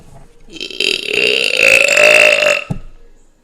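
One long, loud burp from a burping contest rumbles and gurgles for about two seconds up close, rising and swelling before cutting off abruptly with a small trailing sound.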